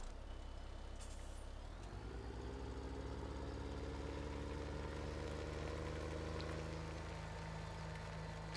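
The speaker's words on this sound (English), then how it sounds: "we got the biggest case tractor" A Case Magnum CVX tractor engine in Farming Simulator 17 idles with a steady low drone, and an air-brake hiss near the start gives way to a louder, fuller engine note that runs on continuously.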